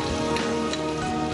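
Minced onion dropped into hot white oil and frying, giving a dense, steady crackling hiss that fills the whole short moment, close and fairly loud with no voices.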